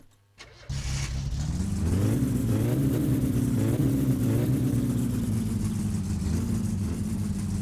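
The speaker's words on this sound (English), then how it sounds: "It runs! The car actually lives!" A car engine in the video game My Summer Car cranks briefly, catches and starts, then settles into a steady, loud mid-pitched running drone with slight rises in revs, heard alone without talk.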